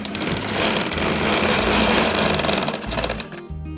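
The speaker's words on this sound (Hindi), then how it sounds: "यहाँ पे मैंने मशीन रोक दी है" A sewing machine runs a zigzag stitch on cloth, a loud, fast, continuous mechanical chatter close by that slows and stops near the end, with no talking.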